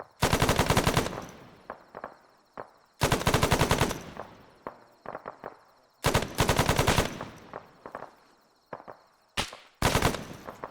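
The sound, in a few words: machine gun firing sustained bursts in video game ArmA 3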